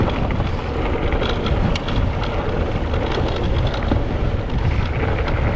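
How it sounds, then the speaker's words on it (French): Strong gusting wind, around 80 km/h, buffets the microphone as a rider pedals an electric mountain bike through open countryside. It makes a continuous loud, rough roar with no voices. "aujourd'hui chez nous, la particularité c'est le vent"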